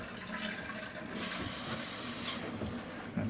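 Cold water running from a new shower valve on PEX plumbing, a hissing rush that swells loud for about a second and a half, then drops back to a softer flow.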